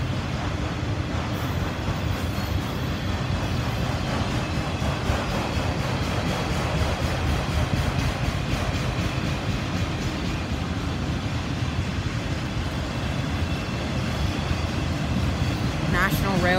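A freight train with National Railways of Mexico cars rolls past nearby at the Folkston Funnel, its wheels rumbling and clicking steadily over the rails as a voice speaks briefly over the noise.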